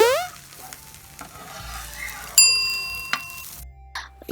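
Bread toasting in ghee or oil on a hot pan gives a steady close sizzle and frying crackle, with a few light clinks and scrapes partway through.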